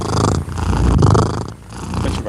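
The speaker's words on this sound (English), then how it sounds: "She can do some serious purring when she's happy." A contented female cat purrs close to the microphone, a loud, continuous rumbling that rises and falls with each breath over a couple of seconds.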